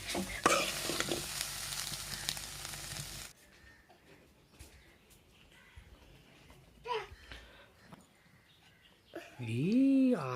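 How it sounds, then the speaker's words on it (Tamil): Cabbage stir-frying in a pan for egg fried rice sizzles loudly with scraping stirs for the first three seconds, then drops to quieter pan clatter with occasional voices, including a higher voice near the end. "இந்த கோஸ் இது எல்லாமே நல்லா வதங்குற அளவுக்கு வந்து பார்த்தீங்கன்னா நம்ம வதக்கிட்டே இருக்கணும்"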